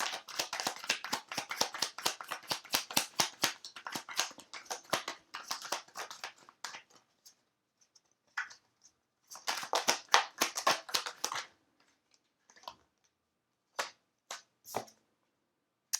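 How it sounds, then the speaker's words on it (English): Rapid riffling bursts of tarot card shuffling come in clusters, each a quick crisp flutter, separated by quiet pauses and a few isolated snaps. "Funny, I saw that mid-shuffle."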